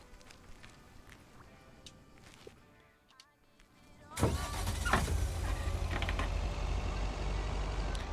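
A stolen car driving in the video game Lake: quiet ambience for the first four seconds, then an engine suddenly roars up loud and close and runs steadily to the end.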